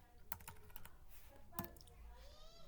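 Faint computer keyboard typing while Python code is entered, a few scattered key clicks over a quiet room hum.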